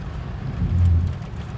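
Steady rain and road rumble heard from inside a car on a motorway road trip in Pakistan, a continuous broadband wash with low engine and tyre drone, no voices.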